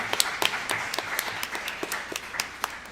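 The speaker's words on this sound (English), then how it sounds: "Clap it up for Heather right now." A small group claps for Heather during a training spotlight event, fairly faint and uneven, with distinct individual claps spread across the moment rather than a dense roar.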